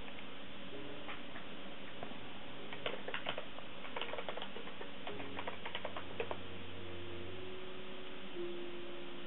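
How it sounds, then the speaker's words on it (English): Typing on a wireless keyboard used with a PS3: scattered quiet key clicks in short bursts over a steady hiss, with a low hum in the background. "here I use the keyboard, the wireless keyboard"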